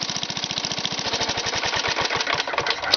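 A 1962 Sears push mower with a Briggs engine runs steadily nearby, a loud, even putter of firing pulses that slows slightly toward the end, with no talk.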